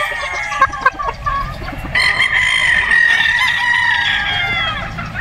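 A Boston Roundhead gamefowl rooster crows loudly and close by in one long, sustained call, with a few shorter sounds from birds just before it.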